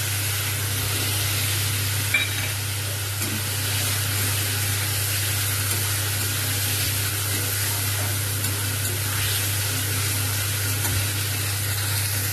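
Chopped tomatoes frying in a pan with garlic give a steady, close sizzling hiss with no letup, over a constant low hum and no talk.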